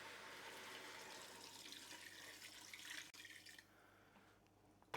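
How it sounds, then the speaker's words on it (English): Water splashes steadily into a cooking pot already holding stock cubes and cumin, a continuous close pouring rush that thins out near the end with a final small knock. "And some water."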